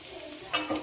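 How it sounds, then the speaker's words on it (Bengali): Potatoes frying with grated ginger and garlic, a brief close sizzle with a few quick scrapes of a spatula in the pan. "আদা রসুন দিয়ে আলুটা আবার ভালো করে ভেজে নিতে হবে"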